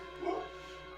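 A single short dog bark or yip sounds faintly in the background over a steady electronic hum, brief and muffled.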